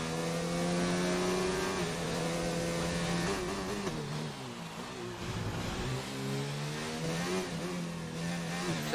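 Renault race car engine on a soft-tyre qualifying lap at the Abu Dhabi Grand Prix in a racing video game, a loud, steady high-pitched whine that rises and falls through gear shifts for the whole stretch, with no talk over it.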